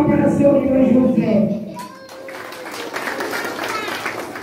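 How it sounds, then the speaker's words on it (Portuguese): During a religious ceremony honoring saints and orixás, a voice speaks briefly, then a group breaks into clapping that carries on as a lively, moderately loud patter of applause. "Uma salva de palmas para seu filho José."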